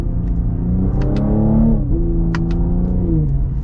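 A 2023 Cadillac CT5-V accelerates at partial throttle, its engine note rising loud and close from inside the cabin, with quick paddle-shift gear changes marked by sharp pitch drops and brief clicks.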